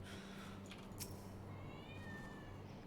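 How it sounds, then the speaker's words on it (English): A cat meows faintly several times in a quiet room, high-pitched and thin over a steady low background hum, with no talking. "Meow. What's up, Maya?"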